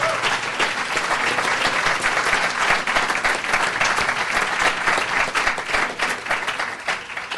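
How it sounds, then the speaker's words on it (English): Dense, steady applause from a live lecture audience at Tufts University, loud and sustained for the full stretch with no talk over it. "You deserve that applause and more"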